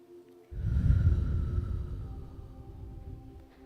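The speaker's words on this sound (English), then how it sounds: "Let's take a big deep breath. Breathe out." A group at a health workshop breathes out together in one long, loud exhale that starts abruptly and slowly trails off, after a brief quiet breath in.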